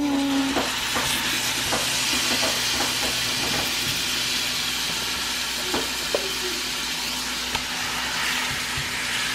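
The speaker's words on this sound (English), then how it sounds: "So now I'm just going to let that fry a little bit." Curry lamb pieces fry in a pan with toasted curry, giving a constant close hissing sizzle with small pops and crackles scattered through it, steady and unbroken.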